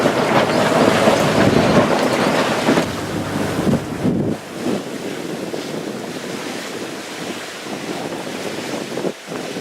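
Wind and surf wash over a sailboat on a breezy reach back to harbor, a steady loud rush of air and water that eases slightly partway through and carries on without talk.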